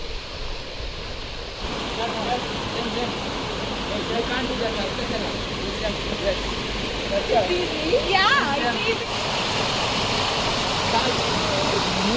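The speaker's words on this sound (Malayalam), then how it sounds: "വെള്ളത്തിൻ്റെ ശബ്ദമൊക്കെ നമുക്ക് കേൾക്കാം" Rushing water from Thoovanam waterfall in Chinnar forest roars as a steady, broad wash of noise, with people talking faintly over it.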